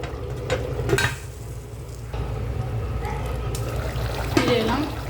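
Beef cooking with tender bottle gourd is stirred in a pot as the liquid dries down, giving a soft scraping and shuffling with a few light clinks over a steady low background noise.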